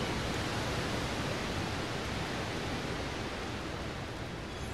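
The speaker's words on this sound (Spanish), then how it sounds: "Qué bueno el sonido también ahí de la cascada" Waterfall in the video game Devilian, a steady broadband rushing roar of falling water, even and continuous from start to finish.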